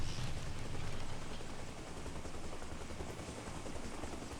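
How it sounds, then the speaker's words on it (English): A helicopter in the game Arma Reforger lifts off, its engine and rotor making a steady dense roar that stays loud and even throughout, with no voices. "if we take our helicopter up"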